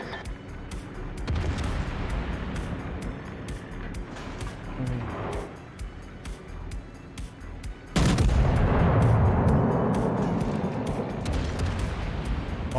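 Naval gunfire from the warship Baltimore in a video game, a dense run of booming shots with rumbling blasts, growing heavier and louder in the second half.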